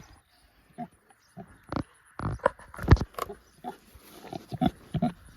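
Baby pigs on a farm give short, irregular grunts and snuffles nearby, scattered in quick bursts with brief pauses between them.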